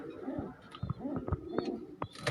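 Teddy pigeons in a breeding setup cooing softly, a few low repeated throaty coos close by, with light rustling and faint background noise.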